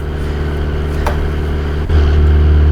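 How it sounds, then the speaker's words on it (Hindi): A car engine in BeamNG strains during extreme off-roading, droning steadily and loudly at around 2000 RPM, then deepening and swelling near the end. "इंजन तो जोर लगा रहा है"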